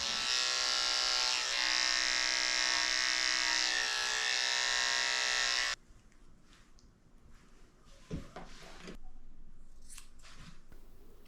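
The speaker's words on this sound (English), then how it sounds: "I'm using my comb to pull the hair out from away from his eyes so I can come in with my clipper and shave out the hair." Electric clipper buzzes steadily and loudly close by as it shaves hair away from a Maltese dog's eyes, then cuts off abruptly, leaving faint handling rustles and a few soft clicks.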